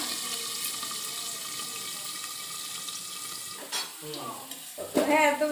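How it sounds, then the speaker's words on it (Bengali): Potatoes frying in oil in a pan, a steady close sizzle that runs alone for a few seconds before stirring clatter and scraping break in near the end. "ওই জন্য আলুটা প্রথমে ভেজে নিচ্ছি"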